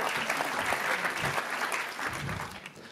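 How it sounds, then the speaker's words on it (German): A comedy audience applauds loudly and steadily at a stand-up show, a dense crackle of many hands clapping close throughout. "Ja, man darf klatschen."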